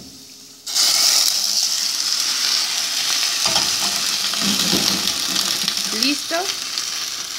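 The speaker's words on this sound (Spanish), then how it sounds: "freímos el ajo" Garlic hits a hot pan and bursts into a loud, steady sizzle after a quiet start, with stirring scrapes and a brief spoken word partway through.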